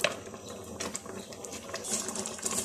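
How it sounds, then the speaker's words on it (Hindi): Food processor briefly grinding soaked rice for carrot kheer, a rattling mechanical whir with clicking texture heard close up for a few seconds. "चावल थोड़े से पीस लेंगे।"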